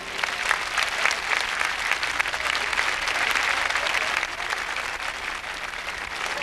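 A crowd in the Plaza de Toros México bullring applauds after a performance, with sustained, dense clapping that swells and then eases slightly toward the end.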